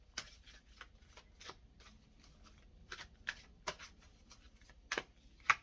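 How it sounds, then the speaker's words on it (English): A deck of cards is shuffled and handled up close during a reading, with a series of soft crisp riffles and flicks at uneven intervals against a quiet background. No one is talking. "Let me grab a Jesus card"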